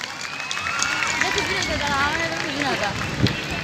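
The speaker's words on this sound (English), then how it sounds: "All of you give him a big applause" Audience claps at a state-level sports festival opening ceremony, a continuous moderate patter of hands with a voice talking over it.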